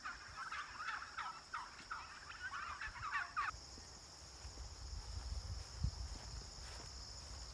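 A turkey gobbles in several quick, rattling bursts on a farm along a hiking trail, fairly distant and soft over a steady background of crickets and insects, with no talking.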